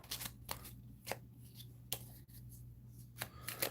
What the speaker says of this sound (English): So I got to shuffle those 3 in here.